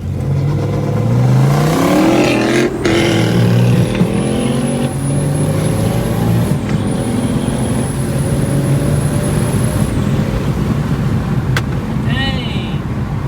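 A 2023 BMW M3 accelerates hard, its engine rising in pitch through several gears with sharp shifts and a turbo whistle, loud and close from inside the car with people talking.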